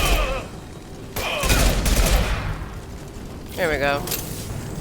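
A canister explodes in Mass Effect among loud blasts and gunfire, with booming bursts rising twice over a steady combat din as voices speak briefly.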